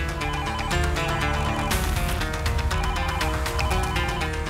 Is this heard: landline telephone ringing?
yes